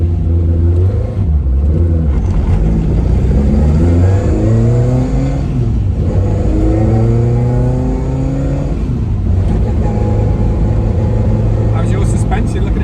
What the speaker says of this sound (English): We're talking proper rally car engine in this